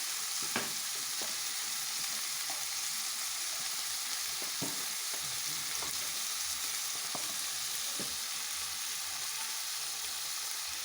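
A cut large tomato frying in a pan gives a steady, dense sizzle throughout, with occasional faint clinks and stirring taps, and no talking.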